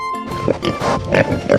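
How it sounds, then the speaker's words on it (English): A farm pig gives a few short, close grunting oinks over a brief stretch, with music running underneath. "Pig."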